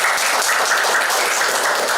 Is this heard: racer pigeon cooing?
no